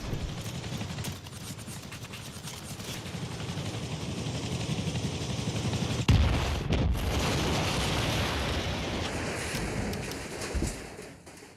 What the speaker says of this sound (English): Was that another heli?